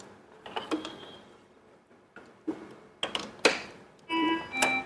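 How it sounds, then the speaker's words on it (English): The acid port on a Fresenius 4008S dialysis machine is pushed into place, giving several short plastic clicks and creaks, close and fairly quiet with pauses between them. "Back connect the acid port to the machine."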